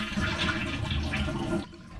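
Water rushes out of a toilet tank as the black flapper with its yellow float is lifted, a steady loud draining gush for most of the clip that cuts off abruptly near the end.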